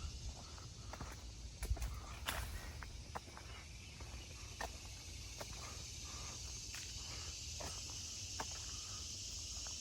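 Cicadas and insects keep up a continuous high buzzing drone outdoors on a nature walk, steady and moderately distant, with scattered faint ticks and rustles from movement on the path.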